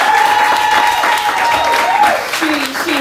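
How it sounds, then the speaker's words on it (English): Audience at a fashion show runway event bursts into loud, sustained applause and cheering, dense clapping filling the whole stretch with a voice calling out over the crowd. "y'all make some noise for Maxine"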